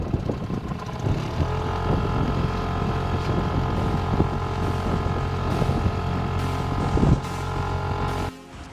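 A dinghy outboard motor drones steadily and close as the small boat crosses Cocoa Bay, Antigua, toward the beach, with a constant engine hum, wind buffeting and water rushing past, slight dips in pitch near the end.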